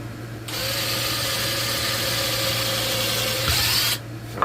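A steady, loud mechanical whir runs continuously for several seconds, like a power drill running, then cuts off abruptly near the end.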